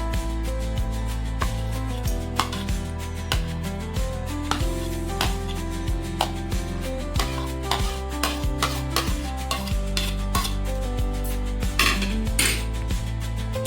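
Chopped onion, tomato and chili are stirred in a bowl with a spoon, giving repeated clinks and scrapes against the bowl over soft background music, with no talking.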